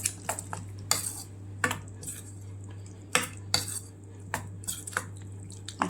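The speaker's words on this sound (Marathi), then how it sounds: "आता हे व्यवस्थित मिक्स करून घ्यायचं" A spoon stirs and knocks against a bowl while mixing a poha and semolina appe batter with green chilli, giving sharp intermittent clinks over a steady low hum, with no talking.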